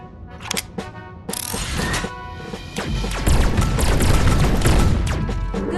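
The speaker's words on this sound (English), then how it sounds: "Now let's get some practice by shooting those boxes up ahead." Gunfire hitting boxes in a Megaman-style video game tutorial: rapid mechanical shots and clattering impacts crash in a loud, continuous barrage that thickens into a steady roar toward the end.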